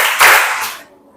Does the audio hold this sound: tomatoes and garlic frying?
no